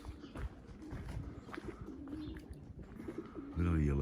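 A pigeon or dove coos somewhere up in a tree in the morning, soft repeated calls set against outdoor background noise, with a louder burst near the end.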